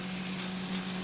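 Bottle gourd bhaji sizzles steadily in a pan while being stirred, a soft, even frying hiss with a faint low hum underneath and no talking.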